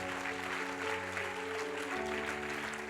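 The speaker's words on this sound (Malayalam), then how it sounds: "കൈയടിക്കുവാണെങ്കിൽ ഇപ്പോഴാണ് അടിക്കല്ലേ" Church congregation claps at a worship service, a soft, steady patter of applause heard from a distance, continuous for a few seconds over low musical tones.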